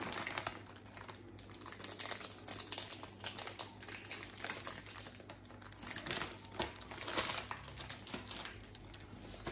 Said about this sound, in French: toujours pareil, c'est avec du papier transparent.